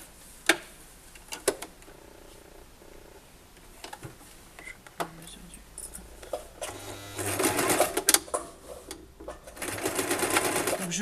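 A sewing machine stitches seams on pieces of fabric for a washable wipes basket, with scattered clicks and fabric handling at first, then sustained close runs of whirring stitching in the second half.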